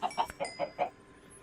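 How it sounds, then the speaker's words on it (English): Chickens in Minecraft give five quick clucks in an even rhythm, close and clear, then fall silent. "I should start breeding the chickens gradually"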